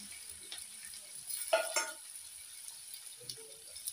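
Coriander, cumin and onion fry quietly in a pan with a soft sizzle, and a few stirring scrapes and clatters rise briefly in the middle.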